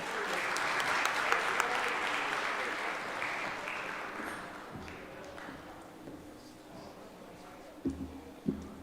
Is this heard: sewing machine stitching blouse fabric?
no